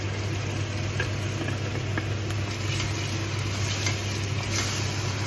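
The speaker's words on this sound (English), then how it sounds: "So I'm going to go ahead and add in my tomatoes." Chopped tomatoes from a tin hit a hot frying pan during chicken curry cooking, giving a steady, dense sizzle with stirring over a constant low hum, no talk.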